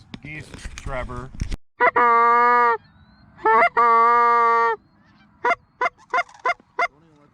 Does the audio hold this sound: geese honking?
yes